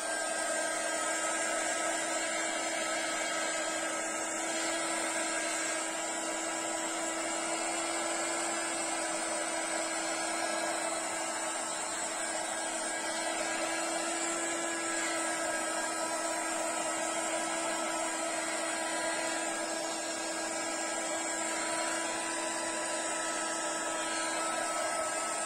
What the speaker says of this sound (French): avec le gun, ça fait du bruit